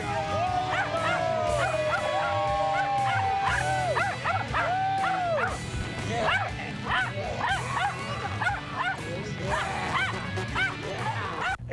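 Several dogs bark and yip repeatedly at a pregame Iron Bowl football gathering with food and family pets, loud and close, with excited voices mixed in.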